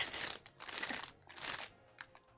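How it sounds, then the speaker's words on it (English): Plastic bags crinkle and rustle close by while a Gunpla model kit, an HG Graze Ein, is being built, giving a run of crisp, irregular crackling bursts with short pauses in between. "sound of plastic bags"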